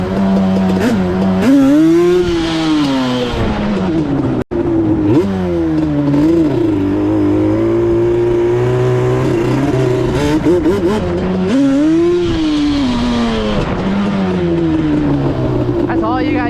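A Yamaha Banshee ATV revs hard for a wheelie, its two-stroke engine loud and close, rising and falling through repeated throttle blips over sixteen seconds with a steady raspy drone between.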